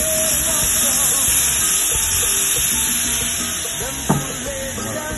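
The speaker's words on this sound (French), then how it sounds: "Et on va déglacer avec du rhum menu." Pan of diced mint deglazed with rum for a banana and mango crumble, giving a steady bright sizzle and hiss with a sharp burst of spitting near the end.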